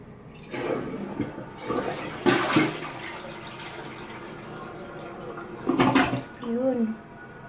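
A household toilet flushes with a rushing swirl of water, bursts of gushing rising and falling over several seconds, heard up close in a small room; a person speaks briefly.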